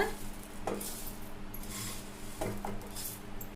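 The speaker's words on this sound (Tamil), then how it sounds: "கருக விடாமல் பொரியை வறுத்துக்கலாங்க, கலர் மாறாமல்." Puffed rice (pori) stirred and roasted dry in a kadai, a steady scraping and rustling of a spoon through the grains with a couple of sharper metallic scrapes, fairly faint and continuous.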